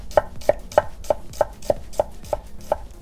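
An onion is chopped into half rings with a knife on a cutting board, about ten crisp, evenly spaced strokes at a brisk, steady pace. The strokes are close and clear, with no talking.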